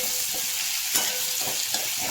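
Onion sizzling and frying in a pan for an old-style home-cooked dish, a steady hiss with a few louder crackles and stir scrapes, close and continuous with no talk.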